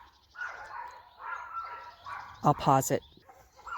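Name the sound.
dogs barking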